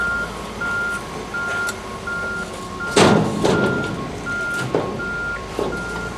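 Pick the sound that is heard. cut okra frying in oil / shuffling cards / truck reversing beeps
truck reversing beeps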